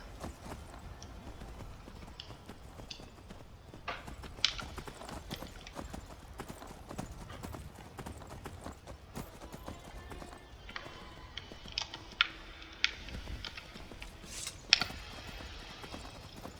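Horse hooves gallop in the video game Skyrim, a fast continuous clip-clop rhythm with occasional sharper hoof strikes and light gear rattle, steady and close throughout with no talking.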